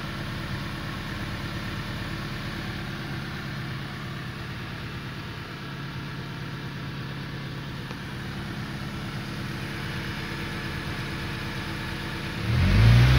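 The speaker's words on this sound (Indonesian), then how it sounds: "Oke, kita lihat mesinnya, suaranya kayak apa. Suara mesinnya kawan-kawan" A 2000 Honda City with a 1500cc V-TEC engine idles in a steady, even hum, then revs up sharply in a brief burst at the very end.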